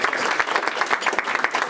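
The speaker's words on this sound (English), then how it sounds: "I know that we just clapped our hands" Room full of Rotary club members clapping together, a dense, steady patter of hands close by and fairly loud for the whole stretch.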